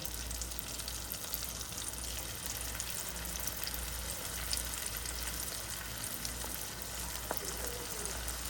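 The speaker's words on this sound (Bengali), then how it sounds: "ভাজার জন্য এখানে আমি একটা কড়াই বসিয়ে দিয়েছি। এখন আমি এই যে একটা একটা করে ভেজে নিব।" Crispy prawn pieces fry in hot oil in a wok with a steady, even sizzle throughout, fairly faint and uninterrupted, with occasional small pops and no voices.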